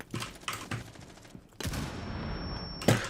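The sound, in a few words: gunfire in a video game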